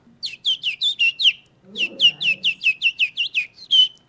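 A man whistles an imitation of a robin redbreast's song: two runs of quick, high chirping notes, about six in the first and a dozen in the second, with a brief low murmur of his voice between them.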